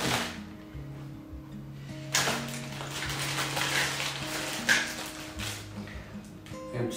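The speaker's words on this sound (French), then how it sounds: "On a une petite porte ici de rangement." A small storage door on a camping trailer is handled, giving a few clicks and knocks amid a steady low hum.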